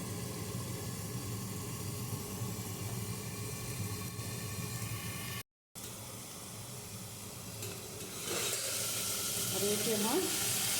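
Ingredients frying in a pan for a homemade khar dish, a steady broadband sizzle that runs throughout and grows louder and brighter near the end, with faint stirring.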